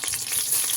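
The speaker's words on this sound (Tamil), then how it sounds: "ஒரு பாத்திரத்தில் எண்ணெய் ஊற்றி பட்டை, ஏலக்காய், சோம்பு சேர்த்து" Cinnamon, cardamom and fennel seeds sizzle and crackle in hot oil in a pan for a Tamil kurma, a brief, close, continuous frying hiss with no voices.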